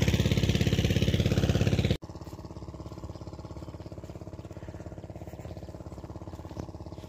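A water pump machine engine runs nearby at a farm field on a foggy morning, thumping at a steady idle; a loud close burst for two seconds gives way to a quieter, even chugging that continues to the end.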